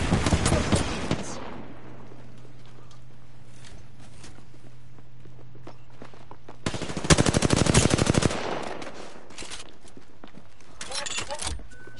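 Rapid automatic fire from the knuckle clusters weapon in a video game, a dense rattling burst near the start and again for about two seconds later on, with quieter game sounds and a low hum in between.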